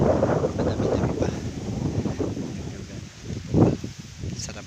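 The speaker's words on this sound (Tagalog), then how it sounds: "Sarap po ng hangin dito." Steady outdoor wind buffeting and rushing across the microphone at a watermelon and sweet potato farm, with rustling and a louder gust near the end.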